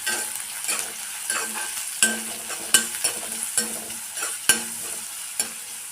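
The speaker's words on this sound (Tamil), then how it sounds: "வெங்காயம் ஒரு ரெண்டு நிமிஷம் நல்லா வதங்கட்டும்" A large chopped onion sautés in a pan for carrot rice, sizzling steadily while a spatula scrapes and taps the pan in an uneven rhythm close up, with no speech.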